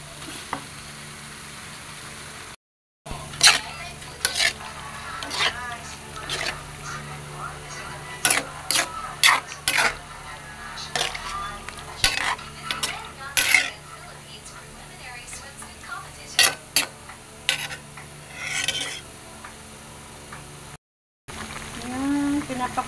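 Chicken sautéing in a pan for a creamy chicken curry gives a steady close sizzle with scattered crackles and occasional stirring clicks, with a voice at times and two short dropouts.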